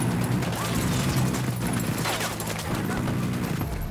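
Dense, continuous gunfire from a squad firing together in the tactical shooter Ghost Recon Wildlands, a steady loud rattle of shots and impacts that runs throughout with no gaps.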